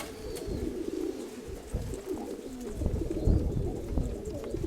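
Pigeons coo continuously in a loft, several birds overlapping in a low, throaty murmur that swells and fades, close and fairly loud with no talk over it.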